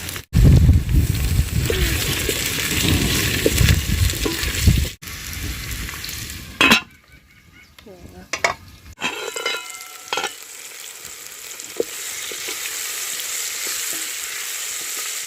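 Garden eggs and onions frying in oil in a pan for a traditional village meal, a loud dense sizzle with stirring, which drops away briefly to near quiet and then returns as a steadier, softer crackle.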